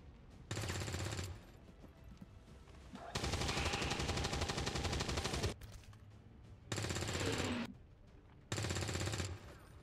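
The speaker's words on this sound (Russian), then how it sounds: "Отвратительная стрельба бойцов в этом раунде подставляет под удар Другунову и Джона." Bursts of rapid automatic gunfire in XCOM 2: War of the Chosen, several long volleys separated by short pauses, loud and close with quieter background noise between.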